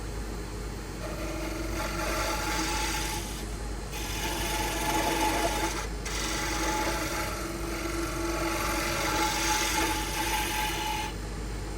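A wooden pen blank turning on a lathe under a carbide tool, giving a continuous close scraping, rasping cut that swells and eases in passes, with brief pauses between them.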